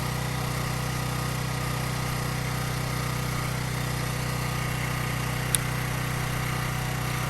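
A Huskey 1850 portable generator's small engine runs steadily after a tune-up, a constant loud drone with an even buzzing tone throughout and one brief click near the end.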